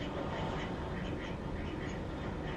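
Ducks quacking on screen, a faint, continuous run of quacks heard through a small speaker in a quiet room.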